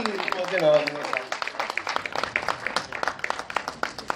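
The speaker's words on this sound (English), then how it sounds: "Huge round of applause for the cast, for the crew, for the team of Freaky Ali" Applause and clapping for the cast and crew at a Bollywood film trailer launch event, a crowd's patter of claps rising and thinning over a few seconds, with voices talking over it.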